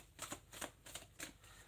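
Tarot cards being shuffled in quick riffling bursts, about four short rustling flurries close by, fairly quiet with no talking.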